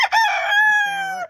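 A backyard farm rooster crows a single drawn-out cock-a-doodle-doo, loud and close, its tone dropping lower toward the end before cutting off.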